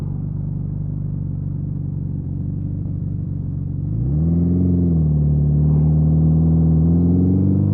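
A 1981 Suzuki GS650GL four-cylinder 650 cruiser motorcycle idles with a deep steady rumble, then revs up around the midpoint into a louder, higher sustained engine note, heard close and alone.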